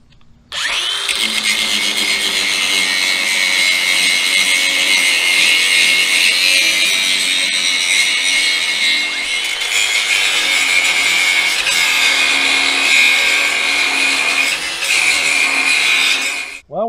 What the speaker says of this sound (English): done a little grinding on it. Now I've got to do some more.